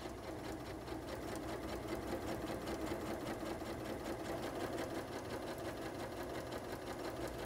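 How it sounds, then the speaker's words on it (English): A sewing machine stitches a skirt seam with a continuous, fast, even mechanical whirr and rapid needle chatter, steady and close throughout with no talk. "We're going to start from the beginning and sew all the way down."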